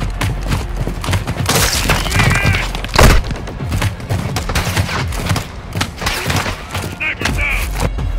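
A sniper rifle shot in Call of Duty: Modern Warfare II rings out as one sharp, loud crack midway, surrounded by continuous battle noise and voices.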